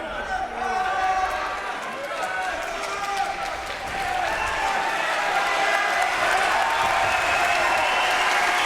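A crowd at an MMA fight between Joni Sarkala and Timo Suihkonen breaks into sustained applause that swells toward the end, while a commentator keeps talking over the clapping.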